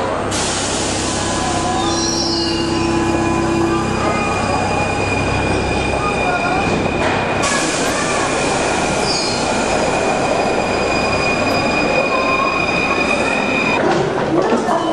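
A Paris Metro line 2 train rolls loudly and continuously, its wheels squealing with sustained high tones and a rumbling body noise throughout, close by and without talk.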